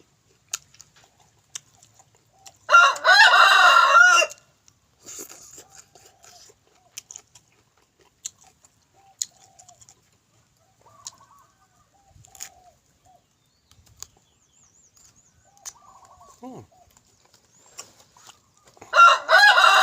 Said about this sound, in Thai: ไก่ผูตัวนี้มักมากวนท่านพี่น้องย่ำถ่ายคลิป